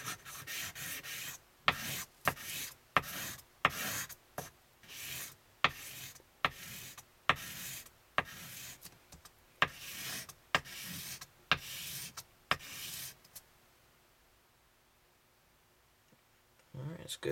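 Rhythmic rubbing strokes of polishing a paintball marker's trigger sear on a Cocker slider frame, roughly one sharp rasping pass per second, close and crisp, then a quiet pause near the end.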